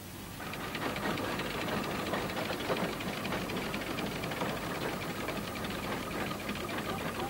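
Steam traction engines running at the Great Dorset Steam Fair, a continuous mechanical chugging and rumble with rapid rhythmic knocking, steady and moderately distant, no voices.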